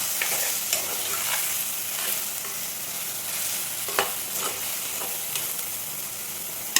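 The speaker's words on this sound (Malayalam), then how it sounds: "ഒരു സവാള അരച്ച് വെച്ചിട്ടുണ്ടായിരുന്നു, അത് ചേർത്ത് നല്ലതുപോലെ ഒന്ന് വഴക്കാം. തക്കാളി ഒന്ന് വഴണ്ട് വരക്കാം." Onion paste and tomato sautéing in a pan while being stirred, a steady, loud sizzle with occasional soft scrapes of the spoon, close up and without any talking.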